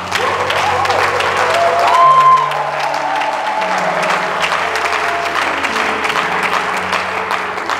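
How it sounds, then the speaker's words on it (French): A church congregation applauds, a dense, sustained wash of clapping hands across the room that swells briefly midway, with some voices and a held musical tone underneath. "Acclame bien, s'il te plaît."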